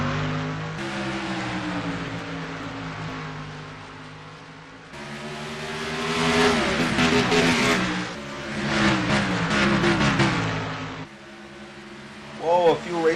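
Race cars pulling away at the green flag of a Piston Cup stock car race, engines droning and surging in waves while a commentator talks over them.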